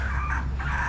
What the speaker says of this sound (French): Ce qu'on entend, c'est les poules.